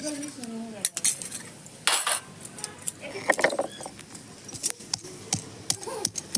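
Black cumin seeds crushed by hand in a small bowl for their juice: irregular clinking, scraping and tapping strokes of utensil against dish, close and fairly crisp, with no one talking.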